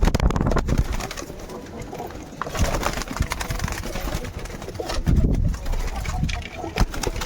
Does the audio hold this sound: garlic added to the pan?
no